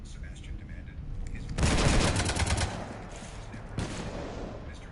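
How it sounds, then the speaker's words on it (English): Sci-fi gunfire from Mass Effect as a ship is shot up: a dense, loud volley of rapid shots bursting in mid-clip over a background rumble, easing off, then a shorter second burst near the end. "You want to stop shooting up my ship?"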